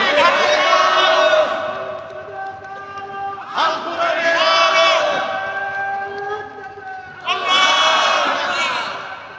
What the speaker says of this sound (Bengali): একটু গলা ছেড়ে স্লোগান দেন তো, দেন। স্লোগান দেন, স্লোগান দেন।